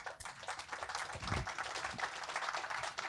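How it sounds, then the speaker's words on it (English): Audience applause at a Bitcoin meetup talk: dense, steady clapping from a room full of people that fills about three seconds at an even, moderate level, with no one speaking over it. "Big round of applause."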